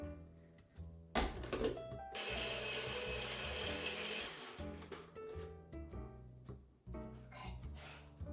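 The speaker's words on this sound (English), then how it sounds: "There's still some ice in it, so I'm going to blend it for a couple more minutes." A blender whirs through a strawberry banana protein shake with ice, a loud continuous motor roar running for about three seconds between shorter bursts and clattering pulses, with no talk over it.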